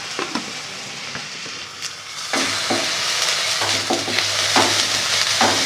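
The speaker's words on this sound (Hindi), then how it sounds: "इसको भी हल्के से फ्राई कर लेना है बस।" Sliced onions with half a teaspoon of ginger-garlic paste being stirred and lightly fried in a pan, a steady soft sizzle with intermittent scraping stir strokes, close and alone without talk.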